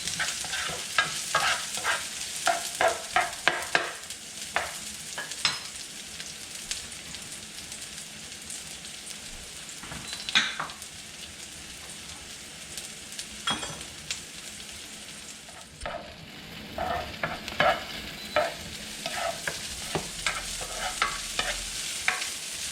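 Onions sautéing in a pan for kare kare, a steady crackling sizzle with repeated scraping stir strokes throughout, briefly quieter midway before the frying resumes loudly, with no talking.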